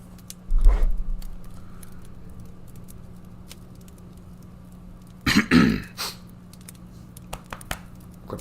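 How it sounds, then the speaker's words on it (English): A person clears their throat once, a short close burst of rough vocal noise rising out of a quiet room, with a faint low hum underneath and a tiny thump near the start. "Clear my throat."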